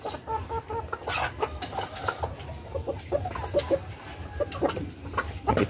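Rhode Island Red chickens clucking in a backyard coop, several birds giving short, repeated clucks at varied pitches, moderately close, with low background rumble and no speech.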